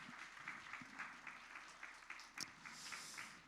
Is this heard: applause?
yes